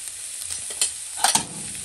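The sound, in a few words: frying rajma filling with spices in a pan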